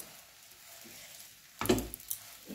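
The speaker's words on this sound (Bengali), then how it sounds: "এবার এই পাউরুটিগুলো আমি ভেজে নেব।" Pieces of bread fry in butter in a wok, quiet at first, then a loud burst of sizzling crackle swells near the end and fades briefly.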